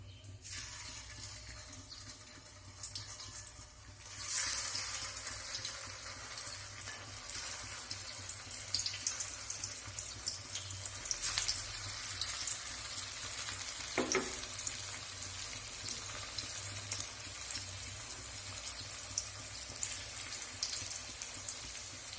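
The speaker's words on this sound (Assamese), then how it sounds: "কেৰাহীত তেল গৰম হৈ আহিছে যিহেতু, এতিয়া মই পিঠাখিনি এটা এটাকৈ দি যাম।" Semolina and flour pitha frying in hot oil in a wok, a steady soft sizzle and bubbling throughout with occasional light clinks and splashes, close and moderately quiet with no talking.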